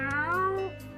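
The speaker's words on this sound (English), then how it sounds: "there's always time to stop and pet the kitty" A cat in the game Trails of Cold Steel gives a single clear, drawn-out meow that falls in pitch, close and alone.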